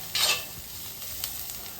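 Food fries in a pan for homemade egg noodles, a steady close sizzle with a brief louder hiss near the start and a few light stirring taps.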